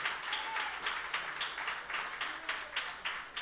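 Congregation applauding inside a church during a Spanish-language sermon, steady moderate clapping with rhythmic swells throughout, slightly distant, no voices over it.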